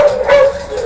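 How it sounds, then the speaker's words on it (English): A puppy whimpering and yipping up close, a single short high-pitched cry with no talking. "Look at all these puppies."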